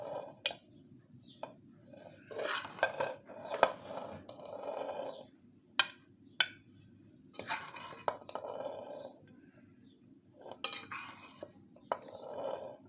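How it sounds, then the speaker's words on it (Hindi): Utensils clink and scrape against a dish as matar pulao, a peas and rice dish, is served out, giving a string of sharp, separate taps over a quiet background. "चावलों को मैं अब डिश आउट करूँगी।"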